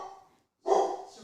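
The speaker's dogs bark, with a single short, fairly close bark ringing out after a brief quiet gap and a fainter sound just before.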